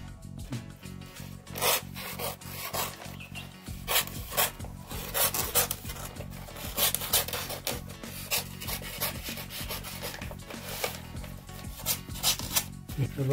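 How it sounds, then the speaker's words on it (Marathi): A knife slicing through sheets of coloured paper, one sheet at a time, making repeated close rasping strokes in an irregular rhythm with brief pauses, no voices. "सुरीने एक एक पेपर कापून घ्यायचा"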